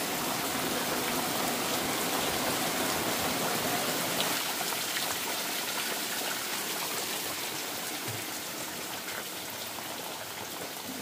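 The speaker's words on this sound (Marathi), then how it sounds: "बघा काय जोरात पाऊस." Heavy rain falls in a constant, dense roar of drops and running water, close and loud, easing only slightly toward the end, with no voices.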